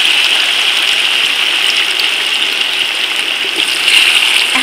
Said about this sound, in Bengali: তাই আমি এখন থেতো করা চালতাগুলো দিয়ে দিচ্ছি।